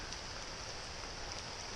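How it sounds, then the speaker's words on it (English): Rain falls steadily outside a tent on the Appalachian Trail, a dense, even hiss of drops with faint patter, quiet and continuous with no voices. "it's definitely raining"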